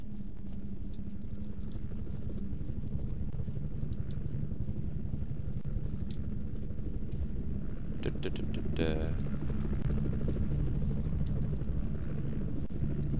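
Helicopter in the video game F.E.A.R. 2, a constant low rotor drone with rumble running throughout, overlaid by scattered game effects and a rising whine near the middle.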